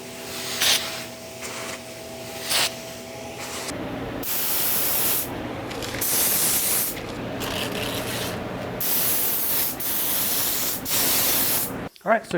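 Spray bursts coat a wooden design mockup, with long loud hissing passes broken by short gaps, close by; a few earlier rubbing sounds precede the spraying.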